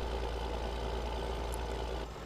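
A tractor's heavy diesel engine labours under load in the off-road driving game SpinTires, a steady deep drone that eases slightly at the end.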